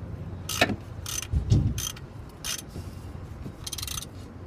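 A ratchet tightens a bolt during a DIY car oil change, with several short bursts of close, rapid metallic clicking separated by brief pauses and a few soft clunks, and no speech over it.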